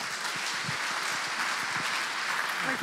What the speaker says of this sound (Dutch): Dames en heren, mag ik een heel groot applaus voor Kasia Ollengren.